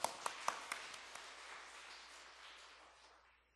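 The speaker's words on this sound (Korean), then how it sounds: "박수 한번 하겠습니다." A church congregation at an afternoon praise service gives a brief round of applause, a few distinct claps at the start that quickly blend into a fading, reverberant patter.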